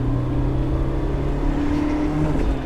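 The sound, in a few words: BMW E30 M3 engine while driving in third gear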